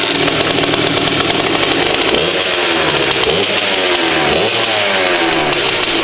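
Two-stroke motorcycle engine, running after the carburetor was refitted, buzzes loudly and close with sharp revving swells and raspy, chainsaw-like exhaust.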